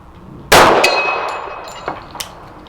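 A Savage 1911 in .45 ACP fires one loud shot at 50 yards, and the steel target rings with a sharp clang that decays slowly, followed by a few fainter metallic pings.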